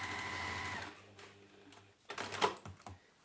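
Domestic sewing machine stitching a top seam across fabric on a book sleeve, a steady whirring run for about a second, then short stop-start bursts of stitching, fairly quiet and close.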